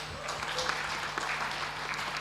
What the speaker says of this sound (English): let's give big applause to our speakers today.